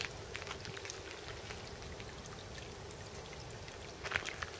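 Water in a brook trickles and splashes continuously at a gentle, steady level, with a slightly louder burst of splashing near the end.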